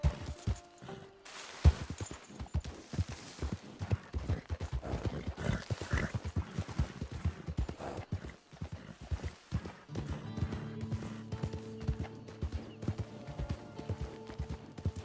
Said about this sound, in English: This horse is trash.